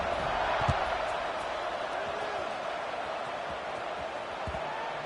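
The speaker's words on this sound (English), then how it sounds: "this crowd is buzzing after that last score" A college football stadium crowd buzzes after a score in a Carolina versus WVU game, a broad, steady roar of distant voices while a commentator talks over it.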